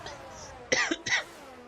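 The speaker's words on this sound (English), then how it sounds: "apologies if you did have to hear me cough there" Two short, harsh coughs close by, one after the other, against a quiet background.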